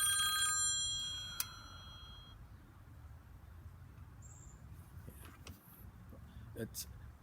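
A telephone rings with a short burst of bright, steady tones at the start, then fades into a faint, noisy background.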